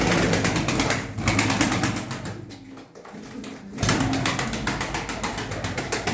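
A female pigeon coos close by in a loft while wings flap in bursts of flight and play, a steady rattling texture that thins briefly midway.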